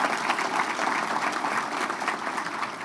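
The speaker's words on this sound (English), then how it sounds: "Can we please have a round of applause for all of our sponsors?" An awards-dinner audience applauds sponsors with a dense, sustained wash of clapping at even loudness, no speech on top.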